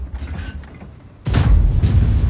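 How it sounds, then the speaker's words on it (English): A high explosive shell bursts in World of Tanks, a sudden loud broadband boom that cuts in after a quieter rumbling stretch and sustains as a heavy, rolling blast. "Oh, he's shooting high explosive there."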